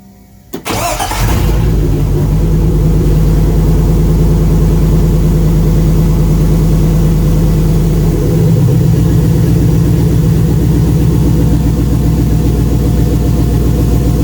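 A 1999 GMC Sierra 2500HD engine cranks briefly and fires up loudly nearby, then settles into a steady, rumbling idle running on all eight cylinders for the rest of the time, with no speech.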